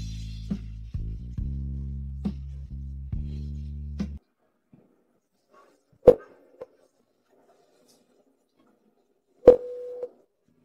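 A telephone handset after a call is hung up: a steady low tone pulsing in short broken segments, then silence broken by two sharp isolated clicks.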